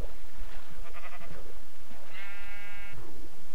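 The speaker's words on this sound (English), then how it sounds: "Here's two sheep." Two short sheep bleats from the video game Minecraft, clear and close, one after the other, with no talk over them.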